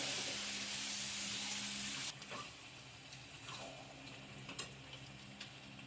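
Soybean biryani masala is stir-fried in a pan: a loud, steady sizzling hiss cuts off abruptly, then gives way to soft scrapes and light clinks of stirring.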